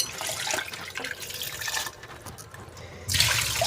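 Dusty grains washed by hand in water, two or three rinses: splashing and sloshing, then a pause, then a louder rush of water near the end, close by.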